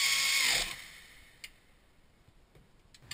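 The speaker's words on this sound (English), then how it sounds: "Now install the rear disc brake caliper mounting bracket and torque those bolts to 58 foot-pounds." Power tool run-down on the rear disc brake caliper mounting bracket bolts of a Lexus RX330 during rear knuckle work: a loud, close whirring burst for about half a second, then faint ticks and clicks.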